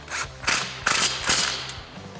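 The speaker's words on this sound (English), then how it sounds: "Then I'm going to take my 3/8 gun with my 15 millimeter," A 3/8 impact gun with a 15 mm socket tightens exhaust bolts while fitting an aFe Apollo GT cat-back exhaust on a 2021-2023 Ford Bronco, giving several short rattling bursts close up.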